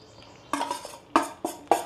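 Egg korma being stirred in a metal pan, with four sharp spoon-on-pan scrapes and clinks spaced out over a quiet background, close and fairly loud.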